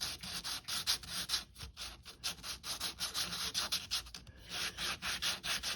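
Sandpaper rubbing back and forth along the cut edge of a vacuform plastic part from a Compass Cope drone model kit, a steady run of close, rhythmic scratchy strokes with no talking.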